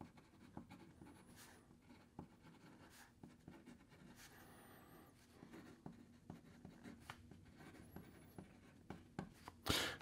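Kaweco Liliput fountain pen with a medium nib writing on paper, soft close scratchy strokes with short taps and pauses, faint and quiet over low background hum.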